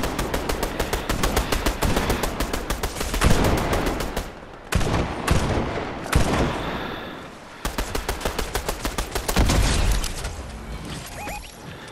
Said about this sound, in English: I'm gonna try and see if I can shoot someone with the explosive thing